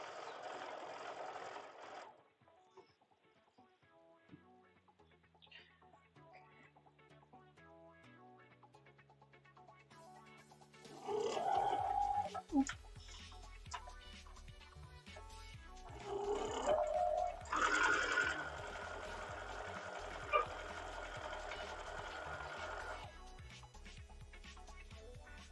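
A sewing machine runs long, steady straight seams on quilt binding, its mechanical whir rising in sustained bursts in the second half after a quieter stretch of soft handling noises.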